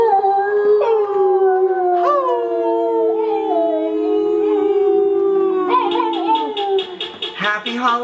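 A werewolf howl sound effect for a Halloween joke: long, wavering howls that rise and fall, with a second howling voice joining near the end for a layered, close, loud chorus.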